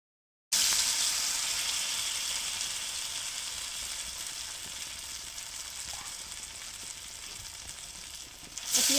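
Pieces dipped in gram-flour batter hit hot oil on a flat pan and sizzle loudly at once, a bright, steady frying hiss close up that slowly eases, with a brief stir near the end.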